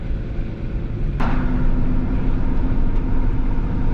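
A 2020 RAM 3500 dually HO with an Aisin transmission tows a gooseneck trailer loaded with gravel, about 27,000 pounds in all, uphill. A loud, steady engine drone with road rumble runs throughout, with no talking.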